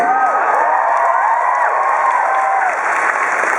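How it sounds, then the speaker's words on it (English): A convention audience at the Emerald City Comic Con 2012 applauds and cheers loudly and continuously for George Takei, with scattered whoops above the dense clapping. "thank you for that applause"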